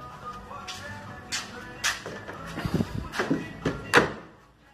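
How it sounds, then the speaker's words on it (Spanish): Door of a 2022 Bajaj UG fibreglass mototaxi being worked, a series of sharp clacks and latch knocks that build to a louder bang near the end, close by in a quiet space. "Se abre bien la puerta."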